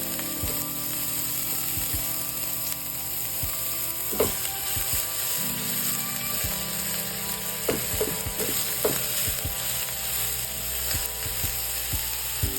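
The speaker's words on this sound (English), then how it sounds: "We're just gonna allow that to saute and get soft." Chopped onion, about half a medium one, sautés in olive oil in a hot pan, giving a steady, dense sizzle throughout, broken by a few clicking utensil knocks and scrapes.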